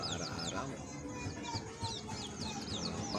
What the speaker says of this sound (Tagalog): Ayan ang ating mga bagong pisang sisiu, bagong pisang bibe